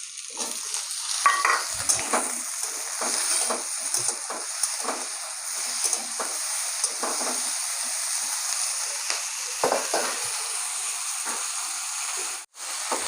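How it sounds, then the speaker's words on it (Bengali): Onions frying in a pan with tomatoes added, cooking for a Bengali potato and tilapia fish curry; a steady sizzle runs throughout with repeated scraping stirs of a spatula, close and moderately loud, no talking. "পেঁয়াজটা হালকা করে ভেজে নেবো, তারপরে টমেটোটা দেবো।"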